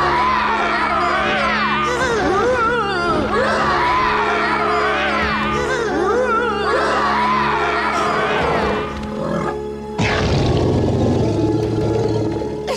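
A group of young cartoon dinosaurs roars together, childlike voices imitating big rumbling roars in overlapping, rising and falling cries that swell loudly and continuously, with a fresh burst of shouting near the end.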